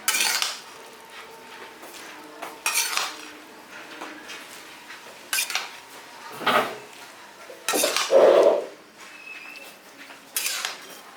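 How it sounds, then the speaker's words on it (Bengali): Fried corn goes from a pan into a bowl in several separate bursts of metal spoon scraping and clinking against cookware, with quiet pauses between them. "আমি একটা পাত্রে বার করে নিচ্ছি"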